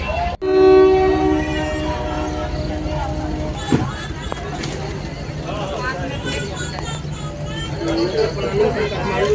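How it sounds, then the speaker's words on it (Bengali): A train pulls out of Janakpur Dham station in Nepal, its loud horn blaring steadily at the start, then the engine and carriages rumble on beneath nearby talk and crowd noise. "ট্রেন 11:49, ট্রেন ছাড়ছে।"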